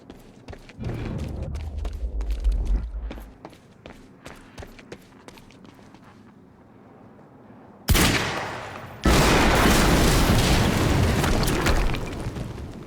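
A loud explosion in the video game Quantum Break hits suddenly near the end, a sharp blast followed by a sustained roaring rumble, after a stretch of rhythmic footsteps and gunfire-like thumps.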